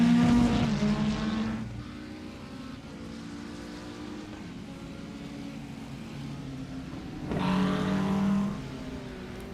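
GT3 race cars at Motegi in a racing game, engines droning steadily with a loud car sweeping past at the start and another rising pass near the end, no talk over it.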